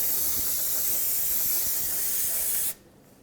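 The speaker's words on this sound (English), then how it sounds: "I'd like to clean this whole area with some brake parts cleaner" A steady aerosol spray of brake parts cleaner hisses continuously for a couple of seconds onto a Ford F-250 rear axle area, close and loud, then cuts off abruptly into quiet.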